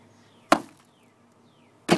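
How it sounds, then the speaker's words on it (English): Two sharp, loud whacks about a second and a half apart, a hammer cracking a hard, brittle gingerbread house, with quiet between the blows. "So I smashed with a hammer,"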